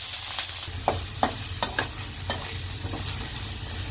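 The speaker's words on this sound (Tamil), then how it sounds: "நல்லா ஆயில் ஆட் பண்ணிவிட்டு நம்ம வந்துட்டு பட்டை, பிரிஞ்சி எல்லாம் போட்டுக்கலாம்" Onions and green chillies frying in oil with cinnamon and bay leaf for a jackfruit curry, a low steady sizzle punctuated by several clicking spatula stirs, close up with no speech.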